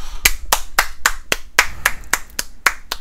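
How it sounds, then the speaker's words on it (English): Hand claps ring out one after another in an even, steady rhythm, about a dozen sharp, close, crisp smacks standing alone with no talking. "That's some applause there."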